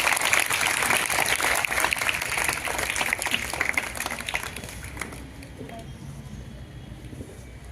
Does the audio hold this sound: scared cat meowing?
no